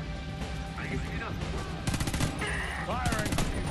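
Rapid gunfire in the video game Homefront: The Revolution crackles in dense bursts over a constant, noisy battle background, with shouted voices briefly cutting through.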